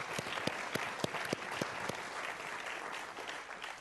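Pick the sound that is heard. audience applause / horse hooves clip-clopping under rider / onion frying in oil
audience applause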